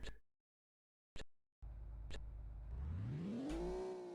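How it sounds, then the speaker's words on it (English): A car in a 1997 demo CD game pulling away, its engine note rising steadily in pitch as it accelerates after a couple of short clicks, fairly quiet and with no talk. "Okay, we can drive the car."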